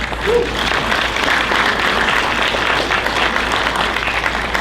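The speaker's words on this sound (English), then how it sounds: "You all applauded too early" Audience applause at a long service and retirement dinner fills the room, a steady wash of many hands clapping that holds at an even level for several seconds, with a faint voice briefly heard under it.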